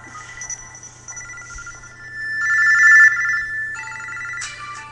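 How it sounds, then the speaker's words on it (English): A phone ringtone plays a bright, electronic melodic tune, moderately loud and rising toward the middle, alone over a faint low hum with no talking. "That is a sexy ringtone."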